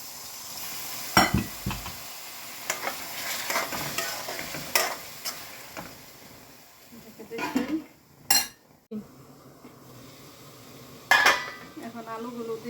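Soybean chunks fry in spice masala in a pan, heard as a soft sizzle broken by repeated spatula scrapes and clinks against the metal, with some louder knocks and pauses between bursts of stirring.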